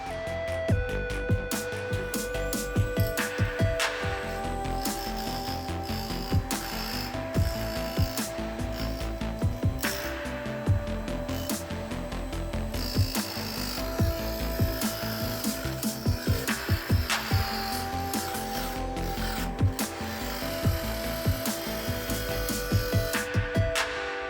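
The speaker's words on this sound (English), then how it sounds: "I'll use it as a guide to spin it against my mini disc sander to make the whole thing perfectly round again" A mini disc sander rounds the edge of a 3D printed disc held against a guide: a steady motor whine under continuous close rasping and grinding, pulsing rhythmically as the disc spins, with no talking.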